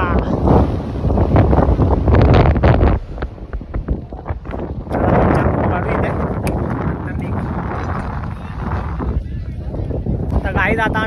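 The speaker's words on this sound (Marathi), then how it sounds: "हवा एवढी बेकार सुटले ना, खतरनाक हवा सुटले, खतरनाक" Strong wind roars and buffets the microphone throughout, with heavy low rumbling gusts that ease briefly around three seconds before building again, while people talk in Marathi over it.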